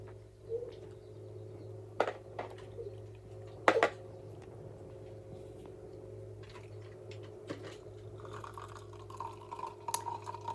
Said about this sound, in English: I am straining the residue from the milk.